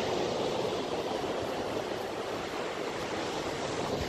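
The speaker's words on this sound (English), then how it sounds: "It's quite decent sized waves, actually, isn't there?" Sea waves on a beach in Portugal make a steady, loud, broadband roar of surf that stays constant throughout, with no voices.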